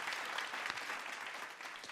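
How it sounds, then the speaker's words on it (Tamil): A crowd claps steadily for a couple of seconds, a dense patter of hands at moderate distance, fading slightly toward the end. "கைத்தட்டுங்க எல்லாரும்."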